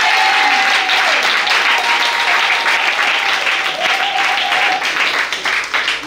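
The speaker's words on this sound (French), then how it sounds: "Acclame le Seigneur Jésus-Christ." A crowd at an evangelism campaign in Yopougon applauds loudly and continuously, dense clapping with a few voices and a sustained tone running underneath.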